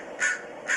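A crow gives two harsh caws spaced about half a second apart, clear and fairly close over a faint background.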